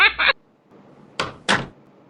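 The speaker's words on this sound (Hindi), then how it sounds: "दरवाजा बंद क्यों कर रहे हो?" A door is shut in a house in a Hindi cartoon scene: two close, sharp thumps of the door closing, just after a brief spoken word.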